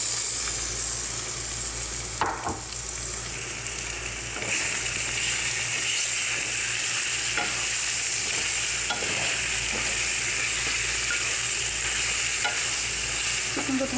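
Chicken sizzles loudly in a pan of hot oil with golden-fried onions, a steady bright crackle with a few stirring scrapes and knocks, close and continuous with no talk.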